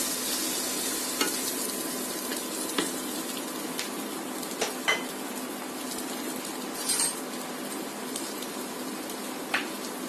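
Breakfast food frying in butter in a pan, a continuous close hiss and sizzle with a few sharp utensil clicks and scrapes as it is turned over, no one talking.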